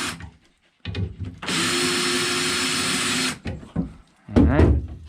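A power drill backs screws partway out of an aluminum boat deck, making one loud, steady whirring run of about two seconds. Brief clunks come before and after, and a voice speaks near the end.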